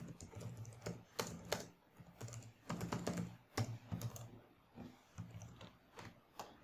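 Typing on a computer keyboard while building a Bootstrap web page, with bursts of quick key clicks broken by short pauses, close and fairly quiet, with no voice.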